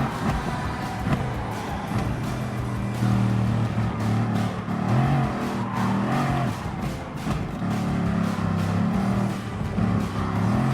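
A Bugatti in a Gran Turismo Sport race, Vision Gran Turismo Trophy, with a steady loud engine drone that rises and falls in pitch as it revs through gear changes.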